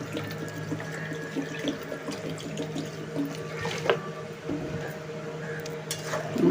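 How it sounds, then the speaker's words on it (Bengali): Water pours into a pan of potato and jackfruit curry with soft, continuous splashing, a few faint clinks of utensils and low background hum, fairly quiet overall. "এবার আমি এতে দিয়ে দেব পরিমাণ মতো জল"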